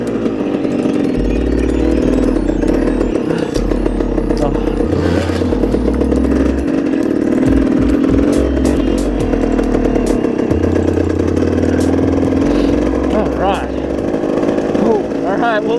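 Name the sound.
200cc motorcycle riding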